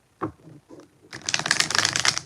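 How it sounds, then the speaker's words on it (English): Tarot cards are handled with a couple of soft taps and slides, then riffle-shuffled in a quick, crisp fluttering burst that runs close and clear to the end. "2 more shuffles for baby Casey."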